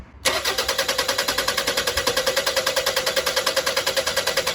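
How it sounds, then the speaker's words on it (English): A Toyota Highlander engine with a fuel pressure fault cranks over with a rapid, even starter rhythm that continues steadily without catching, loud and close. "So let's go ahead and crank the engine."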